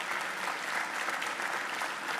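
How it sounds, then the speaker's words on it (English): An audience at a 2023 career education senior awards ceremony claps in steady, even applause, a dense, moderately distant patter of many hands with no voices. "give her a round of applause"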